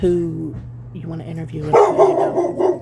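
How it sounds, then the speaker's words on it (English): Dog barking in a home studio, several sharp barks in the second half, loud and close, mixed with ongoing speech. "let me apologize for the barking."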